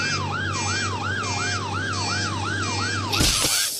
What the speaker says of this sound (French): c'est une ambulance qui est censée sauver les gens